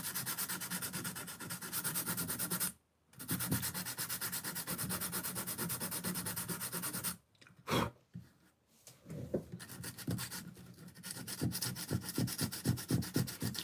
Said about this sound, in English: And just start sanding it here.